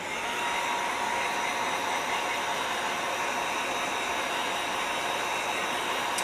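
Steady whir of a hair dryer blowing on craft acrylic paint on a model car hood, a continuous hiss-like airflow at even loudness with no pauses or voices.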